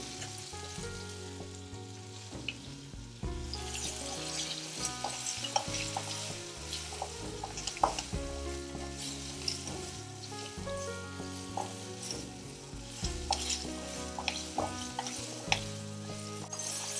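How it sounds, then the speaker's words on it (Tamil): Onions sautéing in a pan with chilli powder and coriander powder, a soft continuous sizzle with spatula scrapes and clinks against the pan, close by, while background music plays throughout. "வெங்காயம் கம்ப்ளீட்டாக வதங்கி வரணும்."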